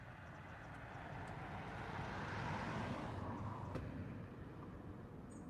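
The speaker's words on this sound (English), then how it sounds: "Sounds like there's a freight train coming." A freight train approaching, heard as a steady, broad low rumble that swells slightly toward the middle and holds for several seconds with no voices over it.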